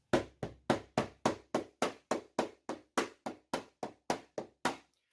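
Sixteen quick, evenly spaced powwow drum hits in a steady driving pulse like a quick heartbeat, each a sharp thump that decays fast, played alone.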